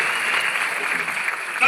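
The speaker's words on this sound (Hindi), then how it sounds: "ताली बजाओ कुलदीप जी के लिए।" Audience clapping for Kuldeep ji at a business success-story gathering, a continuous crowd applause at moderate loudness that stays level and ends with a brief louder burst at the close.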